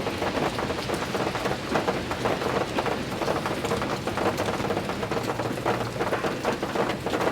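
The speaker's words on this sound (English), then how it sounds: "It's pouring rain right now." Heavy rain pours down steadily outside, drops drumming on surfaces in a dense continuous hiss with a faint low rumble beneath, close and loud throughout with no talking.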